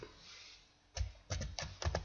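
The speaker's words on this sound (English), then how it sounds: "I'll type in a cost with a decimal place." Typing on a computer keyboard while entering a decimal cost value into tabbed document fields: a few clustered bursts of close, crisp key clicks after a quiet start, with no talking.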